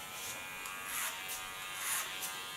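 An electric hair clipper shaves the nape and neckline at a hair salon, giving a steady close buzz that swells and dips slightly as the blade moves along the skin.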